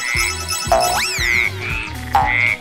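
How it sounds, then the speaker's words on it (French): Cartoonish frog croaks from the WOWCube Sprunki video game, a few loud, close, bright croaks with rising chirpy sweeps in a bouncy rhythm, heard alone. "C'est notre vieux copain, Blue, mais en grenouille"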